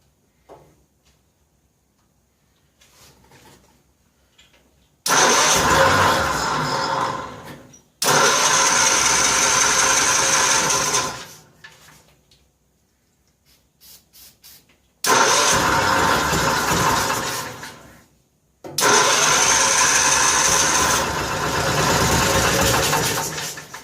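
A 1955 Cushman Truckster's engine cranks and fires on a cold start in several loud bursts, each running a few seconds before cutting out, with quiet gaps between attempts; no talking.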